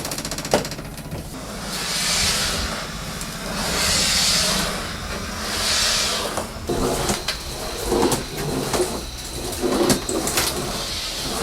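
TOPPIN steam mop running on level 1, a breathy hiss of steam swelling and fading in waves, mixed with scraping and knocking of the mop head moving over the floor, close and moderately loud.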